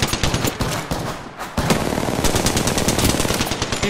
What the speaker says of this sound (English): Someone else shooting?